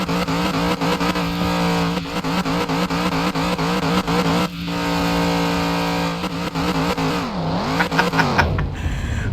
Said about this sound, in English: see if this thing can do some burnouts